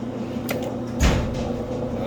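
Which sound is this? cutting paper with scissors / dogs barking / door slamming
door slamming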